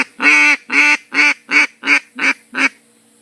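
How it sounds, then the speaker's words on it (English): Seven evenly spaced, loud quacks blown on a single-reed duck call, each a short nasal burst, repeated in a steady rhythm and heard up close with no talking. "I can't make low pitch quacks."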